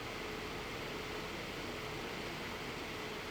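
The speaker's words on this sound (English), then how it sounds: "But when the graphics card sounds like this" A graphics card cooling fan spins hard in a steady, broadband whooshing hum, constant and unchanging throughout with no voices.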